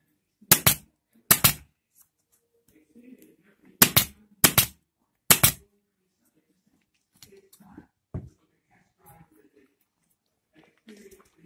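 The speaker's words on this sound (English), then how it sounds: "So then I'm just going to staple this in place." Staples are driven into webbing on a chair frame during reupholstery, five sharp loud snaps in pairs and singles, followed by faint handling clicks and rustles.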